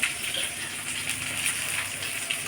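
Curry leaves and coriander go into hot tempering oil for a pea and chickpea snack, producing a steady, close hiss of sizzling that holds at an even level throughout, with no voices.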